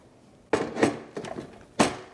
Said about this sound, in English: you're gonna go ahead and put your bread machine pan into your bread machine